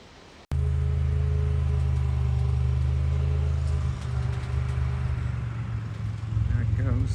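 A winch vehicle's engine bursts into a loud, sustained low roar while launching a glider, holding steady before dropping and continuing more unevenly, with people talking nearby.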